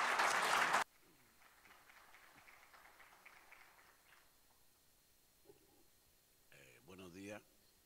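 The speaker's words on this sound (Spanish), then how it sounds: "Demos la bienvenida con un fuerte aplauso" A short burst of loud audience applause welcomes a doctor to the podium at a university seminar on the 500th anniversary of Magellan's circumnavigation. It cuts off abruptly, then a quiet hall follows with faint murmurs and a voice near the end.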